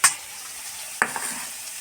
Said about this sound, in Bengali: আর এদিকে নিম পাতা ভাজা চলছে।